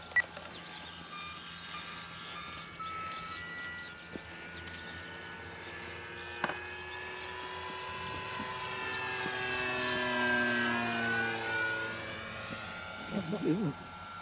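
Radio-controlled FW190 model airplane in flight: a whining engine tone that rises and falls in pitch as the plane passes, growing louder toward the middle, with people talking nearby and a few sharp clicks.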